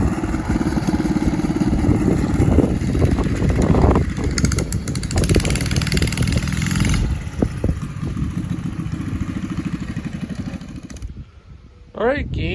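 A vintage mini bike with a high dome piston, running on super octane fuel, roars loudly and steadily up close for about eleven seconds, then its engine drops off and picks back up briefly near the end.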